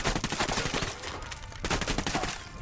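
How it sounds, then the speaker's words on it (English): Sustained automatic gunfire from the video game Ghost Recon Wildlands, rapid overlapping shots in dense bursts with a short lull midway, loud and close throughout. "Keep shooting."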